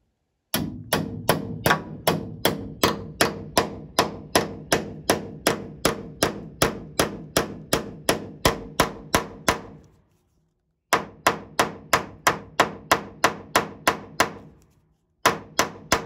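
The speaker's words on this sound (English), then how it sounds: "I use the peen side of the hammer to kind of flatten them out a little bit more." Sharp metallic blows from the peen side of a hammer flattening metal ring out in a steady, rapid rhythm, dozens of strikes with a brief pause midway, close and alone.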